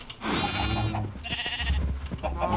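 Blocky pixel sheep in Minecraft bleat in a few drawn-out, wavering calls, close and loud, with a short gap between bleats and faint game ambience underneath.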